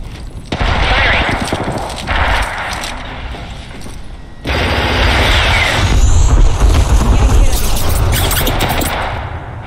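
Video game gunfire in Apex Legends, loud rapid automatic bursts with short pauses between them, close and sustained, broken by a brief gap before a longer stretch of shooting.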